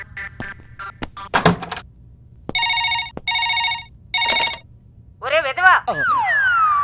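A telephone rings in several loud, evenly spaced bursts, with a few sharp clicks before them and a warbling electronic tone at the end.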